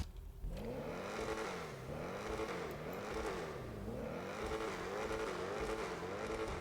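An Ocelot XA-21 sports car engine in GTA Online revs repeatedly, its pitch rising and falling in steady waves over a continuous loud roar, with no voices.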